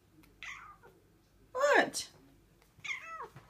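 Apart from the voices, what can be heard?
cat meowing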